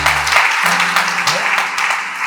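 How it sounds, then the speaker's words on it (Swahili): A church congregation breaks into sustained clapping during a sermon, a dense, loud wash of applause filling the hall throughout the short stretch, with a low sustained tone briefly underneath at the start. "Jamani, tumpigie Mungu makofi."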